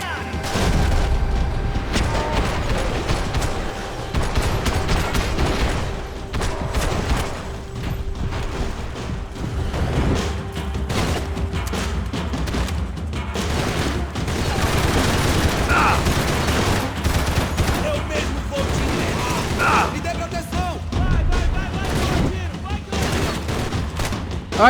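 Sustained bursts of gunfire and heavy booms from the shooter game Max Payne 3, loud and dense for the whole stretch, with rapid volleys and mechanical clicks between shots.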